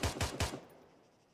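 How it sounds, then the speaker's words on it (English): An M73 light machine gun in a modded video game fires three quick, heavy shots in a tight burst, then the echo fades away into quiet. "This one's the M73 light machine gun"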